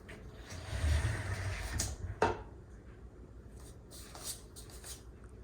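Sliding doors on a newly assembled Wayfair Lorraine cabinet are pushed shut: a low rolling rumble along the track, then one sharp, close knock as a door meets its stop, followed by quiet room tone.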